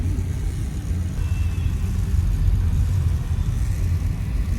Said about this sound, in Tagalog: Traffic guys. Sobra.